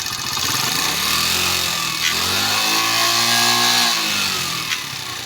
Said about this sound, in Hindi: एक्सीलेटर दो भाई।